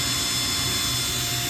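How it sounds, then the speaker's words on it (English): A portable power drill bores down into wood, giving a loud, steady high whir that holds unbroken and close. "So you drill down"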